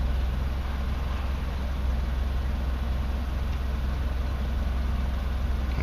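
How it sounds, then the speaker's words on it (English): A Mercedes W202 C230 engine idles steadily after a throttle body cleaning, producing a continuous low, even hum with a slightly raised idle and no talk over it. "I can tell it's a slightly higher idle than it was before"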